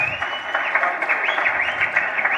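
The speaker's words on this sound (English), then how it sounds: "I think there's a lot of applause for them, please." Crowd applauding at a meet-and-greet for the Blantyre city mayor in Malawi, a dense, continuous wash of clapping and cheering with no pauses.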